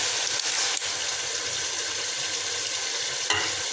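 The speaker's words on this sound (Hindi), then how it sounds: "ऑयल जो है हमारा गर्म हो गया। अब हम इसमें पालक शामिल कर देते हैं।" Spinach sizzles and fries steadily in hot oil in a pan, a continuous bright crackling hiss with faint stirring knocks and a brief louder burst near the end.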